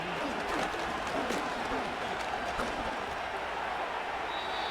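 Stadium crowd noise from a Madden NFL 25 football game, Seattle Seahawks against Los Angeles Rams, a steady roaring murmur with scattered cheers and claps, sustained and fairly even throughout.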